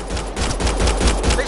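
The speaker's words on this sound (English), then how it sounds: "They shot him!" Rapid gunfire from a video game shooter rattles in dense, loud bursts that run without a break through the whole clip, with no voices over it.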